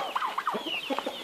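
Chickens and a rooster clucking and gobbling close by while being fed, several quick overlapping calls in a short burst.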